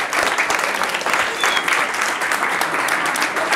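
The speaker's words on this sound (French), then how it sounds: "je voulais qu'on fasse un tonnerre d'applaudissements pour cette belle équipe" An audience at an outdoor film screening gives a sustained round of applause for the organizing team, a dense, steady clatter of many hands with some voices mixed in.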